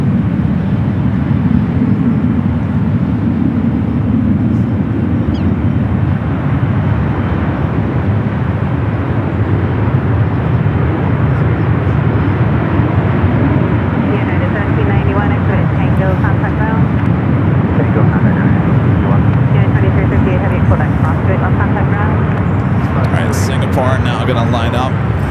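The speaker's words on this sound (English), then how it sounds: "Going to line up, heading to Singapore in this A350-900" A Singapore Airlines Airbus A350-900 jet at San Francisco airport, a steady, loud broadband engine roar that holds evenly throughout, with distant radio-style voices faintly beneath.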